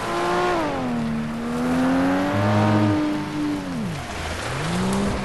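Race cars in the video game FlatOut drive with a steady engine drone, pitch rising and falling as the motors rev and shift, loud and continuous with no talk.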